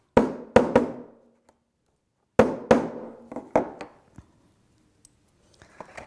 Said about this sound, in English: There we are, and just hammer it flat.